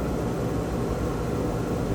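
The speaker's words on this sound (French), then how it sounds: "c'est le bruit de la VMC à son état sauvage, c'est-à-dire sans isolation phonique" Steady broadband rushing hum of a VMC ventilation unit running with no sound insulation in a bathroom under renovation, constant and fairly loud for the whole stretch with no talk.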